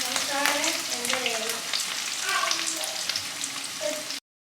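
Spices for a sambar tempering crackle and sizzle in hot oil in a home kitchen, a brief, fairly quiet frying hiss with faint tonal voices in the background before the sound cuts off abruptly.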